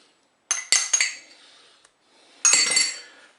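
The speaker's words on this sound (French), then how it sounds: "Vous mélangez." A utensil clinks against the metal bowl of a Cookeo pressure cooker while spaghetti is stirred with mustard, giving a few sharp metallic taps in two short bursts separated by near silence.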